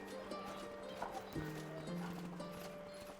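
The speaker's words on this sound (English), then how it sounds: "And now she can finally ride a horse." Hooves clip-clop steadily as a horse is ridden in a medieval video game, faint and even-paced, with a brief whinny partway through and tonal game music humming underneath.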